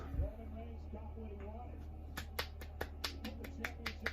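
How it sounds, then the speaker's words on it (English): A soft golf clap of about eight light, evenly spaced hand claps, close and quiet, after a moment of low talk. "Golf clap."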